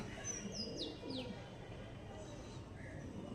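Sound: pigeons cooing and fluttering

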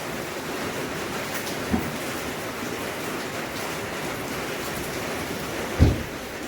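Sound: heavy rain

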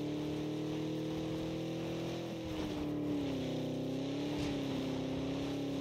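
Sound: car engine in the video game PUBG

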